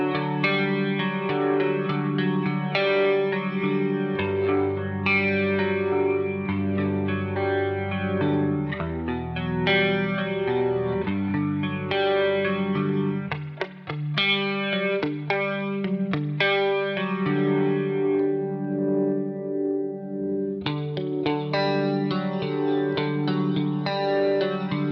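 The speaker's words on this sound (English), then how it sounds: "I'm just going to clean down the tone on the Kemper profile now and show you the neck pickup." Clean electric guitar chords and single notes from the neck pickup of a 1988 Charvel through a Kemper profile ring out steadily, with a shimmering chorus-like effect and light echo, no voices present.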